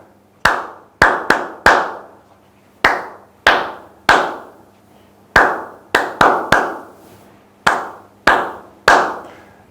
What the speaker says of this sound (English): You can also clap.